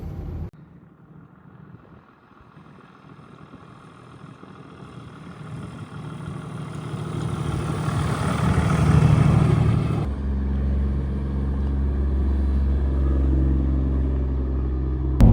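A right-hand-drive Toyota Land Cruiser driving a desert loop road in the Rincon Mountain District of Saguaro National Park: a steady engine drone and road rumble that builds gradually, then settles into a lower, even hum.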